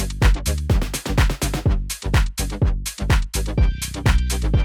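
A minimalist dance track plays a punchy sawtooth synth bass and lead in a tight, rhythmic pattern of short stabs over a thumping low end. It is loud and dry, with no voices.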